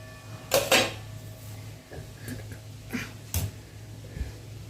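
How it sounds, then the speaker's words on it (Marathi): Metal spatula scraping stuck bits off a hot tawa griddle while making a cucumber thalipeeth, a few short sharp scrapes and clinks close by over a steady low hum. "तवा कडक तापलेलंच आहे थोडंसं असं खाली काय चिटकलं तर काढून घ्यायचं"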